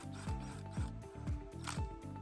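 Bolts being threaded into a jig spacer for a universal jig, heard as four evenly spaced ratcheting, clicking turns of metal against metal, close and fairly quiet, with no talk.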